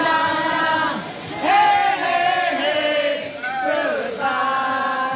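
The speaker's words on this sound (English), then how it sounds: "You can hear the cheers from a crowd of onlookers as a crew brings down the monument at Jacksonville's Springfield Park" Onlookers at Jacksonville's Springfield Park cheer and shout in a continuous, fairly loud crowd roar as a crew pulls down a Confederate monument, with rising whoops and sustained yells throughout.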